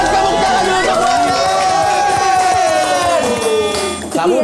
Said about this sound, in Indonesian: Kita kasih tepuk tangan dulu untuk Boyen.